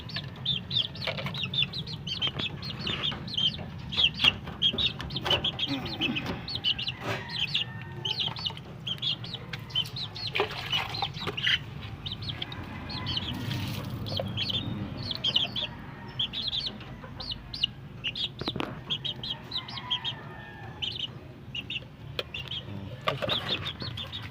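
Chicks peeping continuously in a coop, a dense chorus of high chirps with occasional clucks and soft rustling, moderately faint and close.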